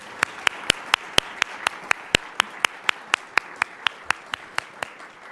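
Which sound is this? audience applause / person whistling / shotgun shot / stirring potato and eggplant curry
audience applause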